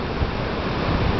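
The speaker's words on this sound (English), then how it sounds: "looking at the top of Vernal Falls" Rushing water at the top of Vernal Falls waterfall in Yosemite in May, a steady, loud, broadband roar that continues without break through the short clip.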